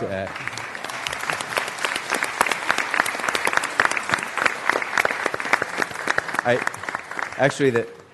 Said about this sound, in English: the applause was a little mistimed.